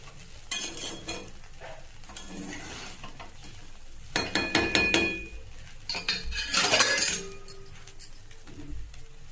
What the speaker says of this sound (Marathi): आता भिजवलेले पोहे टाकून घेऊया छान असं मिक्स करून घ्यायचं आहे